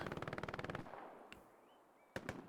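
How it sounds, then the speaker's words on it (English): A burst of rapid machine gun fire rattles in the distance in the World War II shooter Hell Let Loose, followed by a few scattered single shots amid faint battlefield ambience. "it's just constant one noise of just MG fire"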